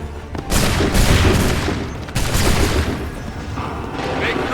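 Musket volley in Assassin's Creed 3, a massed line of muskets firing together in two loud, rolling bursts of gunfire with crackling echo, shouted commands and battle noise around them.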